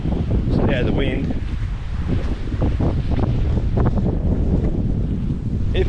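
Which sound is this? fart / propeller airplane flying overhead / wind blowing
wind blowing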